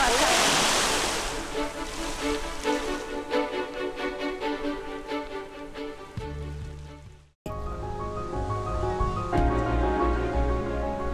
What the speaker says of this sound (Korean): 파도가 촥 하면 몽골이 워르르 하는 소리가 밤새도록 그렇게 들었을 것 같아요